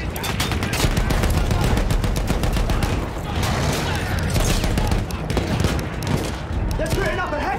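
German guns fire in the World War 1 shooter Battlefield 1, a dense, loud barrage of overlapping rapid bursts and booms that rolls on without letup.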